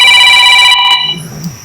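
A telephone rings with a bright, electronic multi-tone chime for under a second, then cuts off, leaving only faint room noise.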